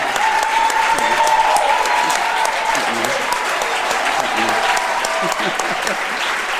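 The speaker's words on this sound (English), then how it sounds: "Another round of applause." An audience at the Metro Inclusion Days 2016 event gives a round of applause, a dense, steady crowd clap that holds throughout, with voices and a cheer or whistle rising through it.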